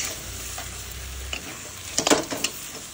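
Chicken sizzles in a wok as it is stirred vigorously for chicken kosha, a low hum giving way to a cluster of loud, clattering spatula scrapes near the end, close up with no voices.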